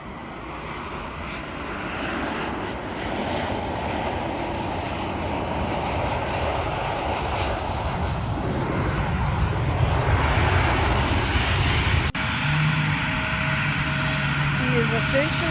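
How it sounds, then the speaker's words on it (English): Small plane arriving at a remote homestead in Maine, a steady droning propeller engine that grows louder as it nears, with a sharp shift in tone near the end. "I'm waiting for Jason's plane to come in"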